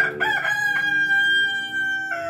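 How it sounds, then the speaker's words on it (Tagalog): A Rhode Island rooster on a breeder farm crows once, loud and close, a drawn-out call of a little over two seconds with no talk over it. "Ito naman yung mga bago natin na breeder, Rhode Island. Yan yung rooster natin"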